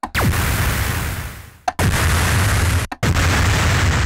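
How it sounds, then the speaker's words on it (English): Synthesized explosions built in the Serum soft-synth: three separate booming blasts, each a sharp burst that decays in a long, rumbling noisy tail, the first lasting longest, with short silent gaps between them. "we have 3 different size explosions, and most of the work is just done with how long it plays out."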